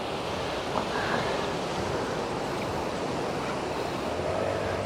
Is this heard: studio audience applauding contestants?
no